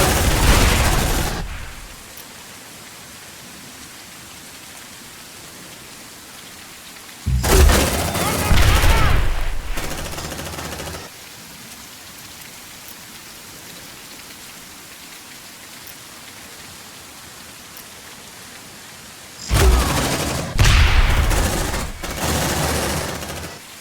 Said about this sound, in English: Grenade! Under heavy fire.